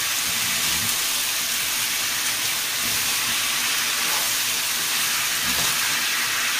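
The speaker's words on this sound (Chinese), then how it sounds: "繼續炒一炒啊" Miso beef short ribs stir-frying in a wok, giving a steady, loud broadband sizzle and hiss with occasional faint clatters from stirring, and no voices.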